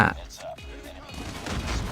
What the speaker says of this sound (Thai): อุ้ย รถระเบิดต่อหน้า